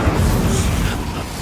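Incendio fire spell blasting in Hogwarts Legacy, a loud, dense whoosh and roar of flame with a heavy low rumble that fills the whole moment, with no talking over it.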